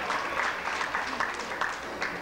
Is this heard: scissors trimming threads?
no